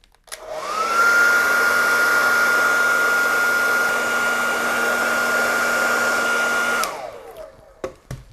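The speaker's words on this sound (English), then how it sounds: "10 seconds probably on each hand with a hairdryer" A hair dryer switches on and blows steadily with a constant whine for several seconds, then shuts off, followed by a few small clicks.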